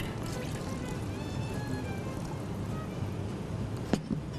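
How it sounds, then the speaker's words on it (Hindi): Meat broth (yakhni) poured into a pot of daleem, a soft, steady liquid pour over low background noise, ending with a sharp clunk near the close. "अब मैं इसमें इसकी यखनी डाल रही हूँ, जो गोश्त हमने पकाया था तो उसकी यखनी है।"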